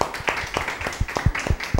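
A handful of audience members clap at the close of a Brazilian television program, giving a sparse, uneven run of distinct claps at close range, with no other clear sound alongside.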